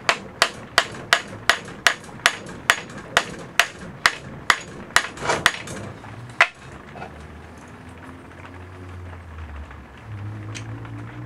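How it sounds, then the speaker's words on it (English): A hammer strikes about fifteen times in a steady rhythm, sharp metallic blows close by, then stops and low rumbling handling noise follows. "There's the hammer."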